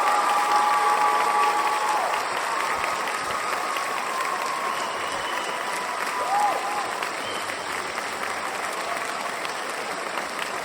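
An audience gives a warm, sustained round of applause welcoming speaker James Tyberonn, steady dense clapping filling the room at an even level throughout with a faint murmur of crowd voices.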